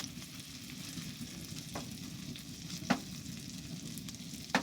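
Sliced sausage frying in a pan inside a hot camping tent, a steady low crackling sizzle with a few sharper pops and spits, heard up close with no one talking.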